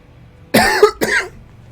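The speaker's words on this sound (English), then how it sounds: "And I've had a cough" Two close, harsh coughs in quick succession, loud and near, with near silence around them.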